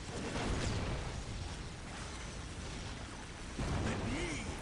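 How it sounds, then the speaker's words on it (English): Grenades launching and bursting in a Dawn of War Soulstorm battle, with Necron forces on the field: a dense, steady wall of thumps and crackling blasts that swells again near the end, broad and busy throughout. "Grenades firing in."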